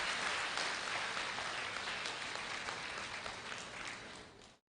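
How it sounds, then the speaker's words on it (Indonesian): Audience applause for a guest introduced on stage at an Indonesian stock investment talk, a dense, steady wash of many hands clapping that holds for several seconds, then fades and stops abruptly. "Mari kita sambut tepuk tangan yang meriah buat Pak Lo Keng Hong."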